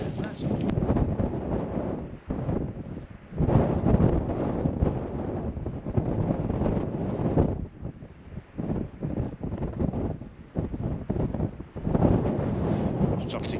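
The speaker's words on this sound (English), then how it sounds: "Stunning day, that wind is getting up." Strong gusting wind buffets the microphone outdoors on Pendle Hill, with loud, uneven roaring bursts that swell and drop throughout.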